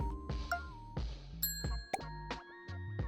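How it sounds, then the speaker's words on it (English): A bell rings in a video game, a series of bright chiming dings and tones in a short melodic pattern, clear and alone. "I just want to ring the bell."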